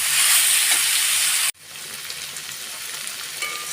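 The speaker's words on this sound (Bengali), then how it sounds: "দেখো বিট গাজর আলু কুমড়ো শিম বিভিন্ন ধরনের যে সবজি দিয়ে আমি ভাজাটা করছি" Beetroot, carrot, potato, pumpkin and bean vegetables frying with salt, turmeric and sugar, a loud close sizzle that drops suddenly to a quieter crackle halfway through.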